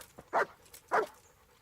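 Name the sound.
dog in the video game Kingdom Come: Deliverance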